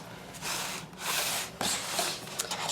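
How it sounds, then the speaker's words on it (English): A sheet of paper is rubbed by hand onto a magazine journal cover, producing several close, dry swishing strokes in quick succession with no talking. "turn it over and lay it right on there and rub it"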